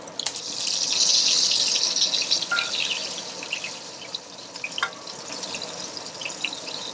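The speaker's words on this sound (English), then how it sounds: "I fry the pieces in lard because it adds a lot of flavor" Pieces of rabbit fry in lard in a pan, giving a steady, hissing sizzle that swells early and then settles into a quieter crackle with a few faint clicks, and no voices.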